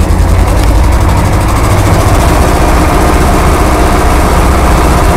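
A tractor engine runs loud and close during winter ploughing, a constant heavy low rumble with rattling vibration and no change in pace.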